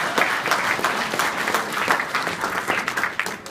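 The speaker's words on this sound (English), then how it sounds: "A round of applause for them, ladies and gentlemen" A crowd at an election campaign launch applauds steadily, a dense, fairly loud wash of many hands clapping that holds for several seconds.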